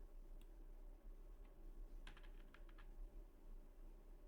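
Typing on a computer keyboard while entering text in MS Word, a quiet patter of keystrokes with a small cluster of quick taps in the middle, faint under steady background hum.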